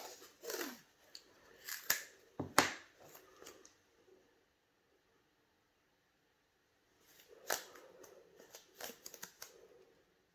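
Tape is pulled and pressed down to hold a stencil, giving quiet crinkling, sharp snaps and rustles in two bursts separated by a few seconds of silence.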